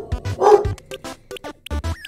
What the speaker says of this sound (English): Don't be barking.